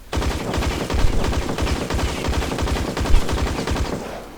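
Gunfire in the online shooter InZone Online crackles in loud, rapid bursts of repeated shots that run almost continuously, with no talking.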